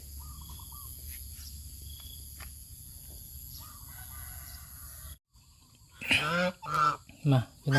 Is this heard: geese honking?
yes